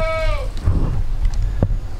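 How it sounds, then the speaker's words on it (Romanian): Goats on a Romanian homestead farm give a short, wavering bleat near the start, followed by shuffling, thumps and faint background noise, fairly close with no talk. "Astea sunt caprele noastre."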